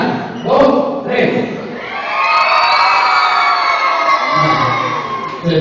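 A group of children shouts together in a loud, sustained cry after a brief count, the yelling swelling and lingering for a few seconds.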